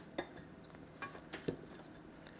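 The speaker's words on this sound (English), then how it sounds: "Let's give it a stir." Spoon stirring dark-coloured vegan cream cheese icing in a bowl, with a few soft scraping clinks against the bowl spread across a quiet moment.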